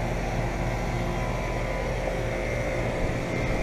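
A 2007 Guardian 4-ton central air conditioner with an A.O. Smith motor running steadily, a constant broadband whir and fan hum with a low mechanical drone, close and even, no talking.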